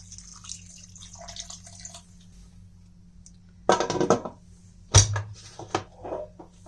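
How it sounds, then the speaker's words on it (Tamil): Water splashes and pours in short bursts into a pressure cooker while cooking, with scattered drips and a low steady hum underneath. "இப்போ வந்து நம்ம இதில் தேவையான தண்ணி சேர்த்துக்கலாம்"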